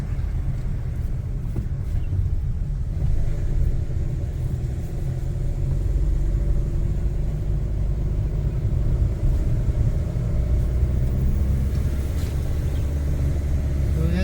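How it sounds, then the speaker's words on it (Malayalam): Two Hyundai vehicles move along a hill road toward Panchalimedu, making a continuous, fairly loud low engine and road rumble that stays even throughout. "രണ്ട് ഹുണ്ടയുടെ വണ്ടികളാണ്"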